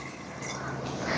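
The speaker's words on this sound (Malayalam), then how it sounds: "അപ്പോൾ 3 ഗ്ലാസ് വെള്ളമാണ് നമ്മൾ ഒഴിച്ചു കൊടുക്കുന്നത്." Three glasses of water pour into a cooking pot holding two glasses of rice, a steady splashing gush heard up close and fairly quiet, with no talking.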